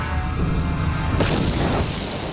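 A grenade detonates in Star Wars: Knights of the Old Republic, a sudden broad blast about halfway through that gives way to a rumbling, noisy wash of game sound.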